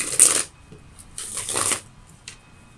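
Tarot cards are shuffled close up in two quick riffling bursts with a softer flick after them, crisp papery shuffles with short pauses between.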